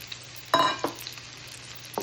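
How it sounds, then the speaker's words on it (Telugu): Potatoes frying in a hot pan while they are stirred, giving a close sizzle with a few sharp scraping bursts from the spatula. No talking. "ఈ ఆలూని కూడా కాసేపు ఫ్రై చేయండి."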